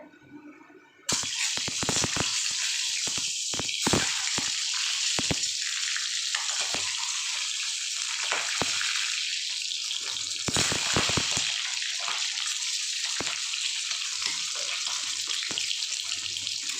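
A sudden loud sizzle starts as eggs hit hot oil in a kadai, then a steady crackling fry continues throughout with occasional louder pops.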